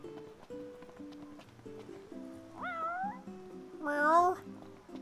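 A cartoonish cat in Final Fantasy XV meows twice, the second call louder and rising, over steady electronic game music with tonal beeps.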